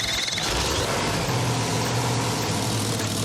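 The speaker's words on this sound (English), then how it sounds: "This motor just screams." A big truck motor of 500-plus horsepower runs in a steady, unbroken roar, close and loud, with a dense low rumble and no talking.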